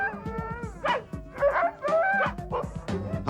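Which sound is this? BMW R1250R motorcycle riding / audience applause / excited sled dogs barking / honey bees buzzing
excited sled dogs barking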